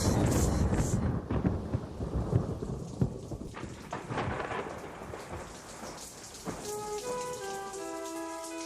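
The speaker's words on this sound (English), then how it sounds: "The night was black, and the driving rain played a constant drum roll on the windows of Hank Bush's little house." Heavy driving rain pelts the windows of a small house on a black night while deep thunder rumbles and cracks, steady and enveloping, before a few soft musical tones rise near the end.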